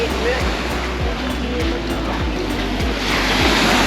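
Surf at Wong Amat Beach in Pattaya rolls in as a loud, continuous wash of breaking waves, close and dense, with a voice speaking over it and a faint regular low thumping in the background.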